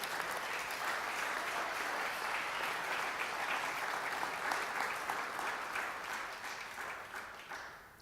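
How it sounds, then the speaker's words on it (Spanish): Sustained congregational applause at a Sunday church service, dense and steady across the room for about eight seconds, fading slightly toward the end. "Démosle un aplauso al Señor."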